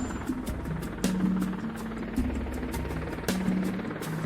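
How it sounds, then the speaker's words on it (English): Marine One, the presidential helicopter, heard as a steady rotor thrum with rhythmic blade chop and engine whine, fairly faint and distant with no talking. "Marine One is the helicopter that has the president on board and lands on the south lawn of the White House"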